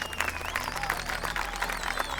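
A crowd claps and applauds steadily through a short stretch, dense and continuous with a faint murmur of voices mixed in.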